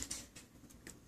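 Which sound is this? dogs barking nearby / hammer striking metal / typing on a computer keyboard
typing on a computer keyboard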